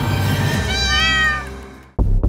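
A cat gives one long, loud, close meow that rises and falls, followed by a couple of short, sharp sounds right after, with no talking.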